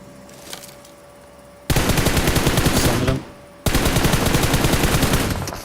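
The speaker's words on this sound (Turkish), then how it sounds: "Haritanın diğer taraflarında da silah sesleri geliyor" Two long, loud bursts of rapid automatic gunfire in the video game PUBG Mobile, each lasting about two seconds, separated by a short pause with faint background noise.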